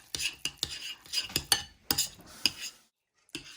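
A utensil mixes avocado with chili powder in a bowl, making a series of close, sharp scraping clinks in an uneven rhythm, followed by a short pause and one last scrape.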